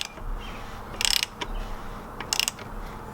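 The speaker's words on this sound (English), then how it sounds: "I'm obviously going to use the crank to drive the piston down." A crank turns an RB25 engine to drive a piston down, giving two bursts of quick ratcheting clicks with softer metallic clicks between, close by and fairly quiet over a low background hum.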